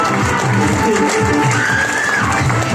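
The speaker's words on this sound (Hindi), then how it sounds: "ताली हो जाएगी।" Audience applause at a presentation, a steady dense wash of clapping mixed with crowd noise that carries through the whole stretch at close range.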